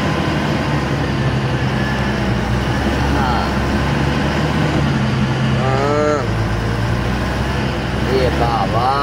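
A truck loaded with potatoes on a trip from Rangpur to Kotalipara, Gopalganj, rolls over a rough road. Its engine rumbles and the body rattles continuously under voices talking inside the cab.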